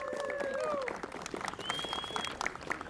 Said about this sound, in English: So let's give them a big round of applause for being here.